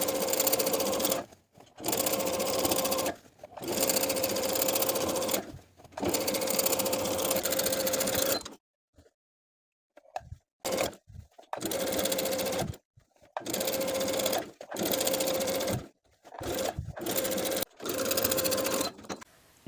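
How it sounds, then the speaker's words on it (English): A sewing machine top-stitching an elastic waistband on pull-on barrel-leg pants, running in repeated bursts of steady mechanical whirring separated by short pauses, with a quieter stretch of faint handling noises midway. "Sew the first row of top stitching while stretching that elastic as you go"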